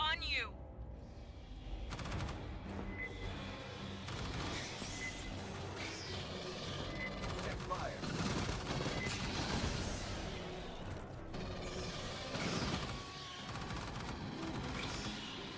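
Sentry turrets in a shooter video game fire rapid bursts of automatic gunfire mixed with crashes and impacts, a dense quiet barrage that continues under occasional player chatter.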